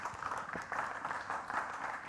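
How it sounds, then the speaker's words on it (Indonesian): Audience applause at a stand-up comedy competition, a faint, steady wash of distant clapping that holds level throughout without breaks. "Asoy, tepuk tangan dong."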